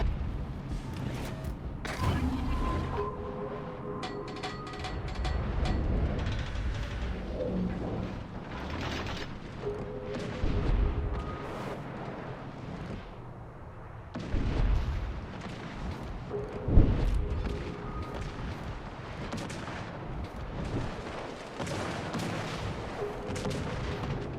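Heavy naval gunfire in the World of Warships game, with loud booming salvos and blasts repeating over a dense rumble of battle noise throughout.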